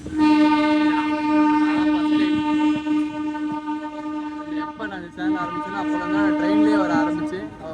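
A passenger train rolls along steadily between Madurai and Bodi with a strong sustained horn-like drone, faint rattling of cars underneath, fairly close and continuous.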